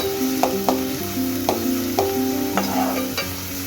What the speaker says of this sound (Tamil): பொடியாக நறுக்கி வச்சுருக்க வெங்காயத்தை அதில் சேர்க்கணும் சேர்த்து பொன்னிறமா வர வரைக்கும் நல்லா வதக்கணும்